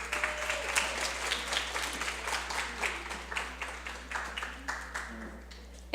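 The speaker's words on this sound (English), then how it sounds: "A round of applause for our judges." An audience at a competition event applauds the judges, moderately loud clapping from a crowd with individual claps standing out over a steady low hum, fading slightly toward the end.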